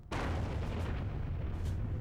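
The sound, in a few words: explosion sound effect in documentary reconstruction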